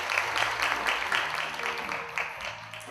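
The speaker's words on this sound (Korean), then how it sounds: "여러분 박수 부탁드리겠습니다." Brief applause from a conference audience at a climate action panel session, fairly soft and steady with faint background murmur.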